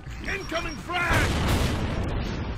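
A frag grenade goes off in a multiplayer shooter, a loud broadband blast that swells after about a second and rumbles on over game noise, preceded by voices talking.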